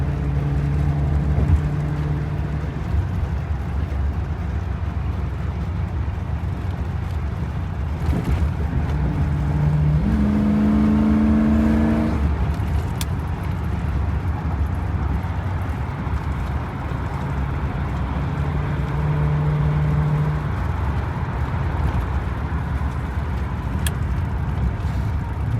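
A 1974 Dodge Monaco car drives along with a steady low engine rumble and road noise, engine tones rising and shifting through the run, heard from inside with no talking.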